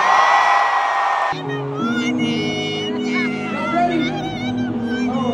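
A crowd at a concert roars and cheers loudly for a moment before music with a rapping voice takes over, the crowd noise continuing underneath.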